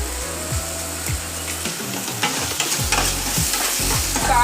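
Tomato pieces with salt frying in a pan: continuous sizzling with repeated scraping strokes of a spatula, close and loud, over a steady low hum, with no talking.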